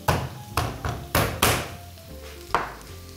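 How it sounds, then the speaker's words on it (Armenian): Garlic is crushed and finely chopped on a board, about six sharp knocks at uneven intervals, close and fairly loud, with quiet gaps between. "Չզմում և մանր կտրատում ենք։"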